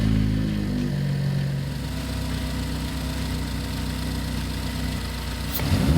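A 2013-2018 Ford Focus ST with a newly installed ATP GTX2867R turbo idles steadily after starting, a close, even engine drone that swells slightly at the end.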